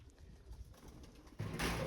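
Pigeons in a coop with nesting boxes and eggs, soft low cooing murmurs close by, swelling into a louder rustle toward the end.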